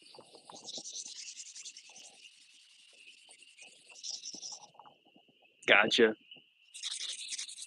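Short bursts of dry rubbing from sanding ceramic pots, stopping and starting, with a brief spoken word and a louder clatter midway.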